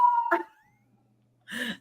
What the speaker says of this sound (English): You hear those sirens?